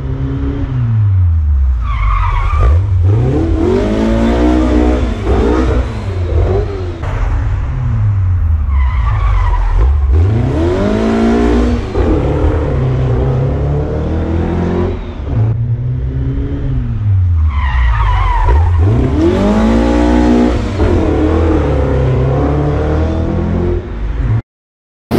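A car's tires skid and squeal repeatedly over an engine revving hard during a handbrake U-turn, with several long sweeping slides in a row, loud and close.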